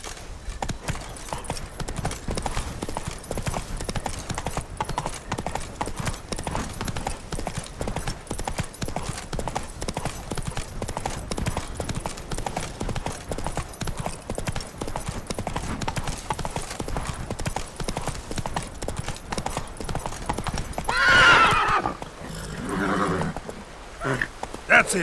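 Geralt's horse Roach from The Witcher 3 gallops with rapid, steady hoofbeats that continue without a break, and a loud whinny rises near the end.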